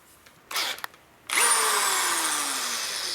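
A hand drill spins a Harley shovelhead engine part clamped in its chuck: a short whirring burst, a pause, then a loud sustained high whine whose pitch slowly sags as it runs.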